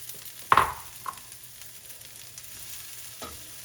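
Sliced mushrooms dropped into a pan of browning beef for stroganoff, with a sudden loud burst of sizzle followed by a steady, quieter frying hiss and a couple of faint stirring clicks.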